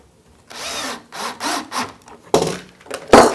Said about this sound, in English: So now, put some pocket hole screws in.